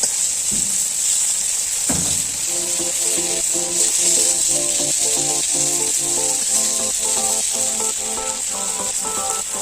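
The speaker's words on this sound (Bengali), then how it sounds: "খুব কড়া করে ভাজবো না, এপিট ওপিট একটু হালকা করে ভেজে নিচ্ছি" Shrimp fry lightly in hot oil, flipped side to side, making a soft continuous sizzle with a couple of sharp knocks early on and a steady crackle after.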